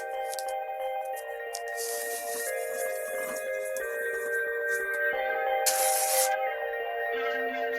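Spray can hissing polyurethane onto a cedar chainsaw sculpture in short bursts, one longer loud burst near the end, close up over a steady tonal background hum.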